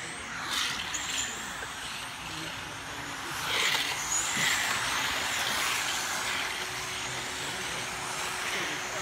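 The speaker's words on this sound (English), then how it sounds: "15 cars on the track, guys." A pack of fifteen RC modified cars races around an outdoor track at a raceway, a steady high buzzing drone of small motors rising and falling at moderate distance.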